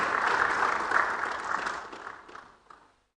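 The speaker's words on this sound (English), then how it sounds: "big round of applause?" A warm round of applause greeting guests, including a UNICEF ambassador, at an education event: dense, continuous clapping from a crowd that tapers off and stops near the end.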